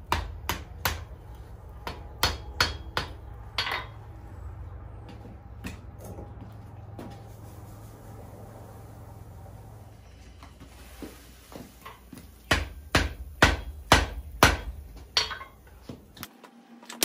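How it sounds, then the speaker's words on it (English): A hammer taps a forge-welded gun barrel to keep it straight, giving sharp, close metallic strikes in irregular clusters, with a quieter stretch of low background roar between them. "We're only going to tap this right now just enough to keep it straight."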